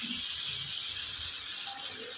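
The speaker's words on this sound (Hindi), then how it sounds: "थोड़ा सा पानी ऐड करूँगी" Water poured into tomatoes frying in a pan on high flame gives a loud, continuous hissing sizzle that stays steady for a couple of seconds.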